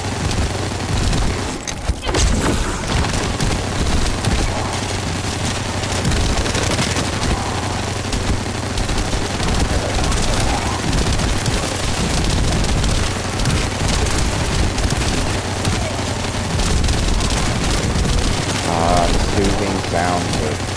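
Dense, continuous gunfire and booming explosions fill a long stretch of sci-fi shooter gameplay in The First Descendant, loud and relentless, with a voice talking faintly underneath.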